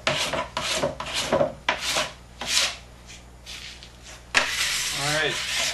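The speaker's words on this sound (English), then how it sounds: "just kind of run your scraper down and get anything that you missed" A plastic scraper drags across a waxed snowboard base in repeated rasping strokes, close and moderately loud, with a brief break and a few softer scrapes toward the end.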